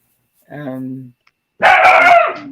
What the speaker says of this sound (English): There goes the dog again, barking at the wind.